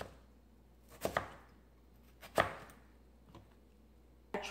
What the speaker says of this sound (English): this to cut up the potatoes and carrots